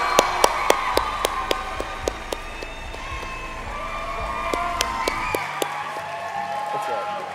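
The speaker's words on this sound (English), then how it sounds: "Let's give her one more round of applause." Audience at an FFA State Leadership Conference session applauds and cheers, dense clapping with whoops layered over sharp rhythmic thumps from a beat, then a voice on a sound system speaks as the applause fades near the end.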